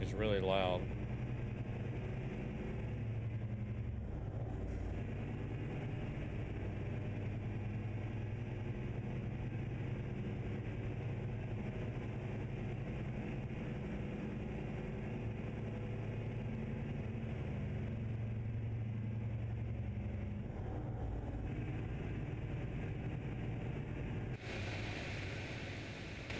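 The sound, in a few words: truck engine idling in a truck driving video game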